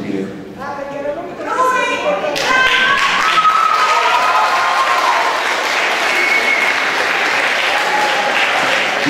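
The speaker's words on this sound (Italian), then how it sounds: "c'è uno di voi che ha beccato un applauso incredibile." A conference audience in Vaglio Basilicata bursts into sustained loud applause after a brief stretch of speech, dense overlapping claps filling the room and holding steady to the end.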